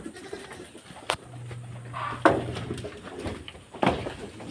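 A few short goat bleats rise over a quiet barnyard background, with occasional sharp knocks and clatter nearby.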